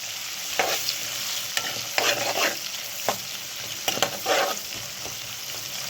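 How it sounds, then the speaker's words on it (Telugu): Chopped onion frying over medium heat in a pan, a soft continuous sizzle broken by several brief bursts of stirring and spatula scrapes, heard up close without any speech. "ఇది కూడా ఇలా ఫ్రై చేసేసుకోవాలి."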